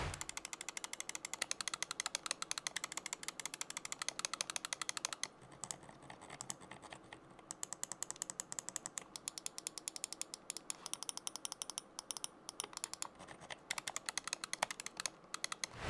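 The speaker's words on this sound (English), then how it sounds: "I am able to rapidly press the mouse clicks very efficiently" A Roccat Kone Pro gaming mouse has its buttons pressed in rapid bursts, making dense, sharp clicking that continues for about sixteen seconds with a brief lull partway through, close and crisp, with no talking.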